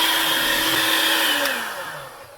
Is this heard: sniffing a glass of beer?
no